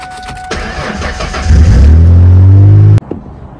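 A Ford Mustang engine cranks and fires up, a loud close roar swelling into a steady rumbling idle before cutting off abruptly.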